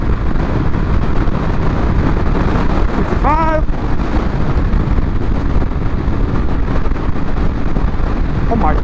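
Strong wind buffeting the microphone while riding a Honda ADV 150 scooter at speed, a loud constant roar with the engine underneath and a brief spoken word partway through.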